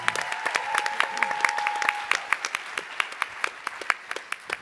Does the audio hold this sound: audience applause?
yes